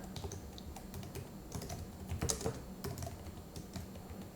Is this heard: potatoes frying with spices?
no